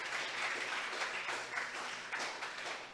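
A church congregation applauding during a sermon, a sustained, moderately distant wash of clapping that swells and ebbs in loose waves over several seconds.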